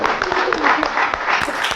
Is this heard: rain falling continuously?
no